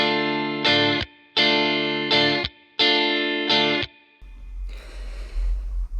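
An electric guitar strums an up, up, palm-mute pattern three times: two ringing upstrokes, then a short choked mute each round, followed by a burst of noisy, muffled strum at the end.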